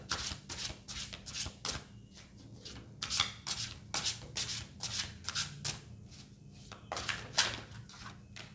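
Tarot cards being shuffled by hand produce repeated soft riffling bursts, each about half a second, spaced irregularly with brief pauses, close and quiet, with no talking.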